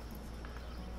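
Goat hooves in the video game Dauntless clip-clop in a quick, steady patter, fairly close and loud, with no talk over them.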